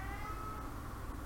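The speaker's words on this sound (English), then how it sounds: "Can you hear my cat whining?" A house cat whining with a drawn-out, nasal meow that sounds faint and close, heard alone in a quiet room.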